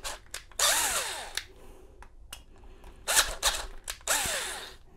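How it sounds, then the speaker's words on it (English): A power drill with a 7/32 bit widens a hole while removing the ignition of a 2005–2006 Chevrolet Equinox, in three close bursts that whir up and wind down, separated by quiet handling clicks. "It's a 7/32 drill bit I've got here to just widen this hole a little bit."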